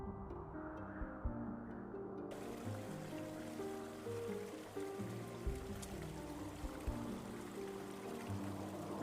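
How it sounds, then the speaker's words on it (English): Stream water flows under ice in a frozen Yellowstone winter, a faint, muffled, continuous trickle and gurgle with low background hum. "The sound of flowing water is muffled as ice limits the channel"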